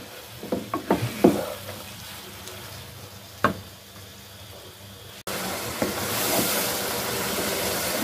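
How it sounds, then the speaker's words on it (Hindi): Chopped tomatoes and onions sautéed in a pan, with several close clatters and scrapes of stirring early on, then a louder, steady sizzle and hiss that fills the rest, no talk. "और अब इसके साथ मैं इसे ज़रा भूनूंगी"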